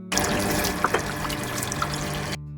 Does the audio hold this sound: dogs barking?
no